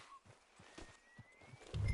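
Horse hooves clip-clopping at a walk in the Red Dead Redemption video game, a faint, evenly spaced series of soft thuds ending in a louder burst.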